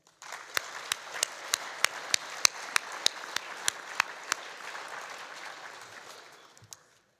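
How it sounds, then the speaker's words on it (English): At an annual dinner, guests applaud the speakers with a sustained round of clapping, one loud pair of hands beating a steady rhythm up front, before the applause gradually fades out. "And a warm applause again, please."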